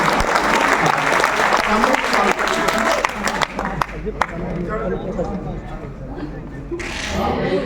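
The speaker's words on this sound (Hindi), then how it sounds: "आप जरा सा एक बार ताली बजा के इनका हौसला बढ़ा दीजिए।" An audience at a mushaira poetry gathering breaks into loud, dense applause that gradually thins and tapers off, with crowd noise mixed in and a brief swell of clapping again near the end.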